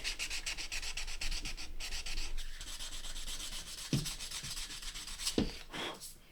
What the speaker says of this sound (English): Kind of don't want to sand too much more at this kind of grade because I'm worried that I'm starting to take off too much wood.